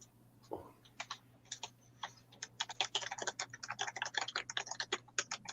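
Fast typing on a computer keyboard, a dense run of crisp key clicks that speeds up and grows busier, close to the microphone over a faint steady hum, with no talking.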